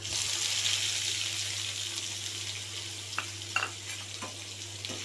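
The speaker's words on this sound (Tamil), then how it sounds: "நல்லா வதக்கிக்கலாம். வெங்காயம் வதங்கிடுச்சு." Onions sautéing in oil in a pan with mustard seeds, curry leaves and green chillies, a continuous close sizzle with a few clinks of the spoon toward the end, no voices.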